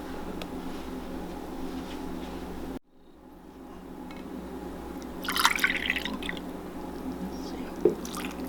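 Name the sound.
adding water to sourdough millet and spelt dough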